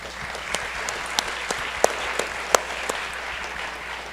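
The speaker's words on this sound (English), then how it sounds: "we should all give her a round of applause" An audience at a Hawaii education conference session gives sustained applause, a dense, even patter of many hands with a few sharper individual claps standing out.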